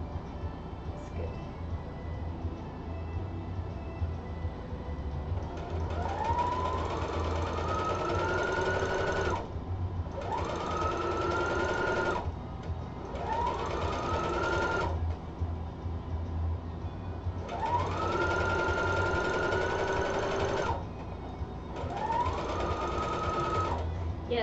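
A sewing machine stitching a narrow 1/8-inch rolled hem on a skirt with a rolled hem presser foot, running in five steady whirring bursts separated by short pauses, close and loud over a low background hum.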